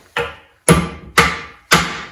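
A hammer strikes a metal part from a 1966 Mercury 9.8 outboard gearbox, held in a vise and bent to a right angle. Four sharp, ringing blows land about half a second apart, close and alone.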